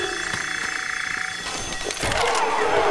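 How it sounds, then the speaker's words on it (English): A looping electronic car alarm wails in the zombie shooter Left 4 Dead 2, steady and loud, then gives way to a harsher burst of broadband noise that may be gunfire or an explosion. "We got to turn off that alarm."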